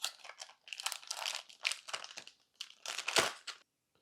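Plastic packaging on a box of meat is cut and torn open at close range, giving bursts of crinkling and crunching with short pauses between them.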